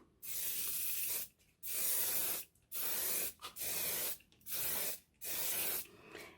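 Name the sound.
spraying hairspray fixative on paper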